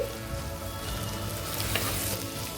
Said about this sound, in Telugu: మూత పెట్టేసుకొని మగ్గించుకుందామండి